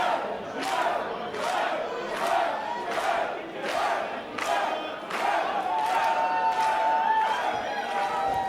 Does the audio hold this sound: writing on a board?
no